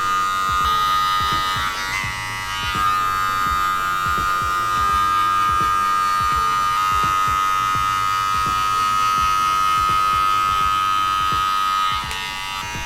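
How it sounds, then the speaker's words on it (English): An electric hair clipper blending a bald fade, a continuous close buzzing hum with a steady pitch and slight shifts as it passes back and forth, no talk. "I'm gonna slowly be closing my clipper more and more and more as I make my passes back and forth"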